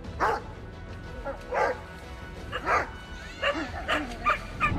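A dog chasing a kangaroo barks repeatedly, with sharp yips and whimpering barks coming in an irregular series, close and fairly loud, with no speech over them.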